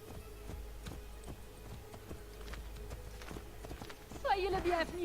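Horse hooves clip-clop at a steady walking rhythm in Assassin's Creed Brotherhood, faint against a low background hum, with a voice talking briefly near the end.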